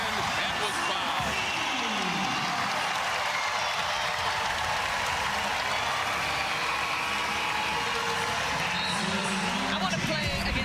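A big basketball arena crowd at a women's college game, Virginia at NC State, roars and cheers continuously and loudly, a dense wash of voices and applause that fills the whole stretch with no break.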